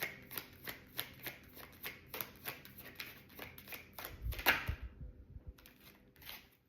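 A deck of playing cards is riffled in quick repeated bursts of crisp flutters, with a heavier thump and bridge-like cascade partway through, then a few softer taps near the end; no one talks.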